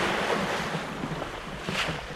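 Easterly ocean swell rolling a sailing boat on a passage toward Maine near Nantucket, with steady wash of surf-like water and wind noise on the microphone, continuous and fairly close, no voices.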